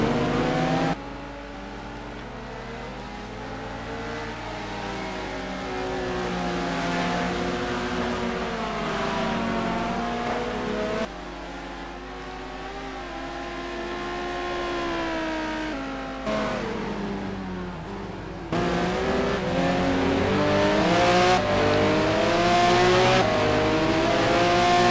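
McLaren race car engine in a sim racing game at Aldo Scribante, droning loud and steady for the whole stretch, pitch sweeping up through the gears and dropping on shifts and braking, with short breaks where the sound cuts.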